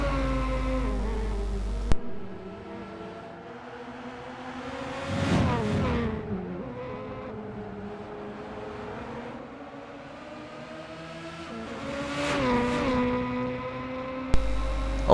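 Touring cars race around the Suzuka circuit in an online racing game, engines droning steadily with rising and falling pitch as cars pass close together, two louder surges of revving, moderate level throughout, no talk.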